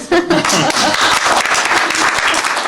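A crowd at a press conference in London breaks into a round of applause, a loud, close burst of dense clapping lasting under three seconds, with some voices mixed in.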